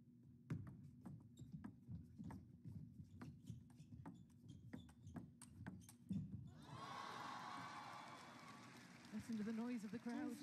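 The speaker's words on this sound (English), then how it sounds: "Listen to the noise of the crowd." Crowd at a table tennis women's doubles quarterfinal, US Smash 2025, first heard as rapid clapping and rhythmic thumping, then swelling into a loud sustained roar of cheering near the end.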